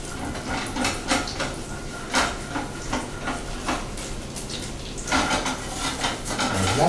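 A utensil scrapes and knocks against a pan, loosening browned bits of turkey scallopini in melted butter, with a quick run of clinks and scrapes over a soft steady sizzle.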